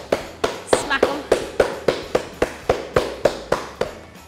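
A cake tin of butter tart Christmas cake batter is smacked on a counter about a dozen times in a quick, even rhythm, each hit a sharp, close tap.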